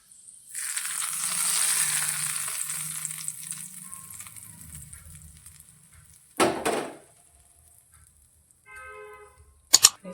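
Hot oil hisses and sizzles loudly for several seconds as mustard seeds and cumin hit the pan for bottle gourd raita, then fades, followed by a few clinks and scraping sounds.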